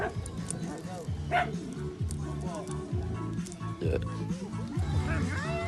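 A dog escorting guests yips and barks in a few short bursts amid close, lively conversation between several people, the barks popping out between and under the voices.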